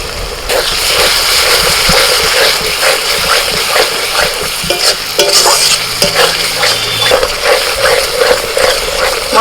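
Ginger, garlic and onion paste frying with ground cashew, yogurt and melon seeds for chicken malai kofta, a steady close sizzle with scraping stirs throughout, no talking.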